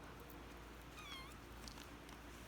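A single faint, short meow rises and falls once over a steady low hum, with no other voices.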